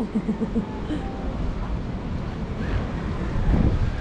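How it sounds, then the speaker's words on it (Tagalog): Strong wind in Tagaytay buffets the microphone in a steady, rumbling roar, with low gusty surges that build louder toward the end. "Oh, grabe ang ang hangin po."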